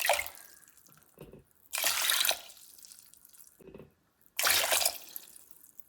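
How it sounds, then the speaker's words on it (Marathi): Water poured from a vessel into a cooking pot of cut drumstick pods comes in two strong splashing bursts, with quieter sloshing and drips between them. "आता आपण यात पाणी घालूयात"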